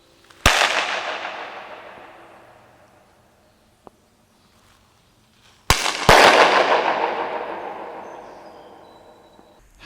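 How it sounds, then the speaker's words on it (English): Sharp hand claps ring out in a large, empty, arched cafeteria of an abandoned orphanage, each crack followed by a long, roaring echo that fades over several seconds, with a quieter tick between them. "my claps were quickly drowned out by the noise of an approaching train"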